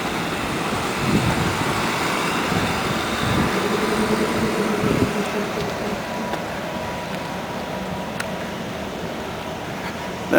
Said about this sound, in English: Now we have a coal train stuck here in the station.